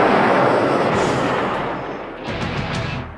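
Loud sound-effect cannon blast of a toy Megatron, a heavy booming roar that fades over about two seconds, followed by a few sharp crackling bursts.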